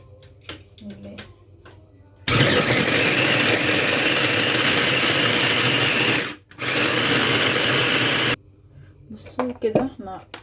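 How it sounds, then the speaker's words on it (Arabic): An electric grinder whirs loudly while grinding onion in a home kitchen, a steady motor roar of about six seconds with a brief gap, then a shorter burst; someone talks before and after it. "احنا طحنا اول بصل"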